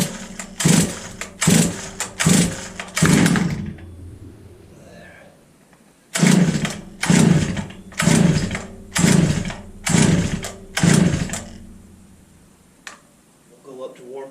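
Repeated pull-starts on a Holzfforma G660 chainsaw with no primer bulb: two bursts of four and five sharp rhythmic cord yanks with sputtering engine coughs, separated by a short pause, loud and close.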